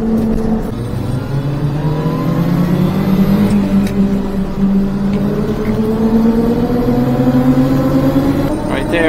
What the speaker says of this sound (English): My buddy Gary confirmed when the turbo kicks in is in fact normal.